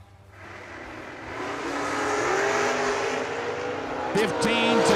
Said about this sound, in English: P. Diddy on the right side in the Corvette, 530 is the dial